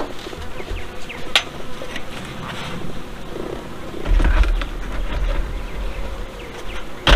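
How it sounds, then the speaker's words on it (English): Honey bees buzz steadily around an open beehive while the hive covers go back on, a close, continuous drone with a few handling knocks and a heavier thump partway through. "That'll keep the bees inside."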